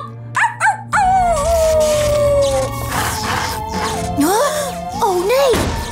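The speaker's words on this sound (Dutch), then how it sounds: "Blijf janken, Rubble" A cartoon dog howls in repeated long, wavering yelps, loud and close, with short gaps and some rising and falling whines toward the end.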